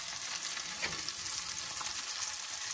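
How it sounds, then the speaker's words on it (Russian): Chicken chops, pounded cutlets in a milk batter, fry in a pan with a steady broadband sizzle and crackle, close and even throughout. "Все очень быстро жарится."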